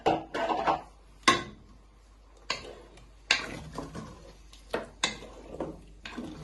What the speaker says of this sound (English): We give that a little bit of a stir first